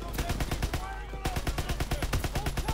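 Call of Duty WW2 on veteran difficulty, with rapid bursts of automatic gunfire in a fast rhythmic stream of sharp shots, pausing briefly before resuming, with a voice speaking faintly underneath.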